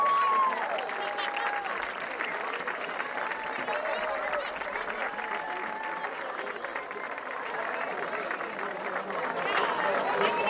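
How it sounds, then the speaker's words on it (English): A crowd in the stands at a 2019 homecoming high school football game, Red Bay vs Sheffield, claps in sustained, even applause throughout, with a public-address voice briefly audible over it. "Let's give them a big round of applause."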